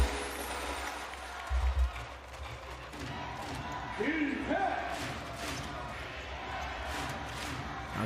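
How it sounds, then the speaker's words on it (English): Basketball arena crowd at a B.League game between Osaka Evessa and Koshigaya Alphas, a steady roar of cheering and noise with a commentator talking over it. "This animated crowd will never stop until the final buzzer."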